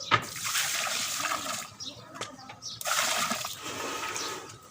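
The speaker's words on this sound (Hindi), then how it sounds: "डालेंगे हस्बे ज़रूरत पानी" Water poured into sugar in a kadhai (wok-style cooking pot) while making syrup for semolina halwa, a steady splashing pour that runs continuously with a short dip partway, heard under a voice talking.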